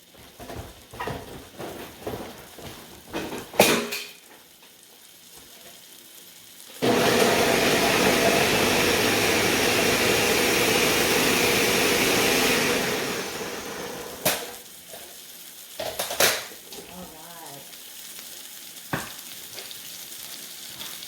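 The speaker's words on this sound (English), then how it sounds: "So I'm just gonna go ahead and put it in the blender" A loud, steady whirring roar of a blender runs for several seconds, then tapers off, with clattering kitchen sounds before and after.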